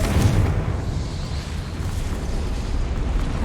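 A Confringo explosive spell going off in Hogwarts Legacy, a loud, rumbling blast at the start that fades into a sustained low roar.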